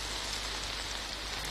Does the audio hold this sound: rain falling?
yes